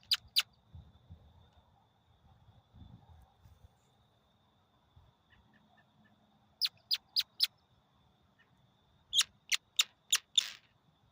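An Audubon bird call squeaked in short bursts, two quick chirps at the start, then a run of four sharp squeaks and another cluster of four or five, fairly near and clear over a quiet low rumble.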